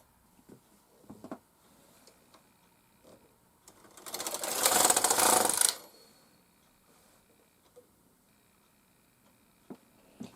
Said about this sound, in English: I moved the carriage from left to right, and in fact, as the manual said, only the main bed needles knit